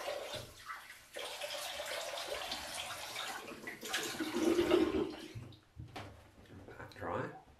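A razor gets rinsed under a running tap, water splashing and gurgling up close in a sink, while someone talks over it and the flow stops and restarts near the end.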